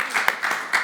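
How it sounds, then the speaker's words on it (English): An audience at a sustainable food forum breaks into a short burst of brisk, close clapping that rises and falls in quick waves. "Also an applause."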